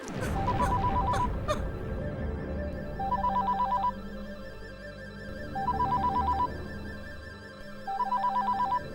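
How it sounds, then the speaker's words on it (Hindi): Landline telephone in a family home rings in repeated bursts, each a rapid electronic trill, four bursts over a steady low background hum and music-like drone, with no voices. "नहीं माँ, फोन मत उठाना। फोन उसी का होगा।"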